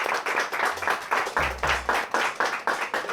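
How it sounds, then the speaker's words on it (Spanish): Sparse, rhythmic clapping from a small game-show audience cheering the winner of a tournament round, loud and close, with a low voice briefly rising under the claps midway. "Un aplauso."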